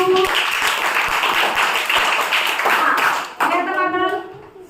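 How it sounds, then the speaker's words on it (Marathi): Children in a classroom clap together in a quick burst of applause that trails off as a teacher's voice comes in. "सगळ्यांनी टाळ्या वाजवा बघू"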